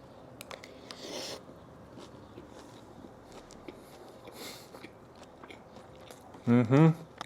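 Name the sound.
biting and chewing a mouthful of pork bulgogi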